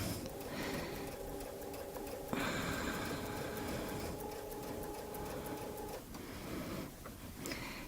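Sewing machine stitching around a Westalee quilting ruler template for a Baptist fan design: a soft, rapid mechanical whirring at moderate distance that starts, runs steadily for several seconds and stops, over faint room noise.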